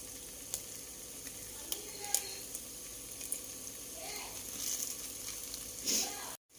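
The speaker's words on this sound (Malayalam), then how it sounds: "ഇനി നമുക്ക് കുറച്ച് തൈര്, ഒരുപാട് പുളിയില്ലാത്ത കുറച്ച് തൈര് ഒഴിച്ചു കൊടുക്കാം." Yogurt is poured into biryani masala in a hot pan and sizzles, a gentle hiss with a few light clinks and a brief louder burst of frying near the end.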